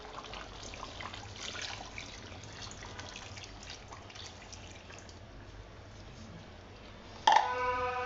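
A thick mixture of powdered milk tinted with saffron colour is poured into a pot of broiler chicken roast, giving a steady trickling pour that ends in a louder splash near the finish.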